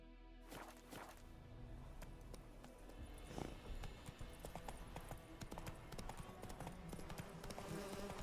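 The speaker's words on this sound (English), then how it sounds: "Giddy up. Whoa there, Roach." Horse hooves clip-clopping in The Witcher 3 video game, a steady rhythmic patter of hoofbeats with faint ambient background, no voices heard.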